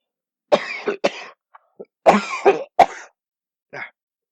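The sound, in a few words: cough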